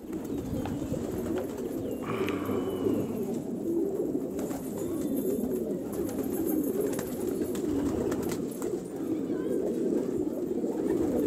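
Pigeons call and flutter amid a steady outdoor din of wind and traffic, with voices talking nearby throughout.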